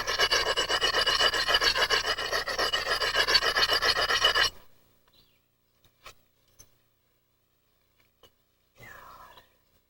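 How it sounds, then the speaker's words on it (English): Edge of a novaculite stone platform being ground with a steady, harsh rasping scrape, loud and close for about four seconds, then stopping abruptly, followed by a few faint taps and a brief rub. "You really got to grind it good to get a good bite."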